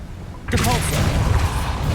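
Depulso force spell in Hogwarts Legacy fires with a sudden loud whooshing blast after a brief quiet lead-in, followed by a sustained rumbling burst up close.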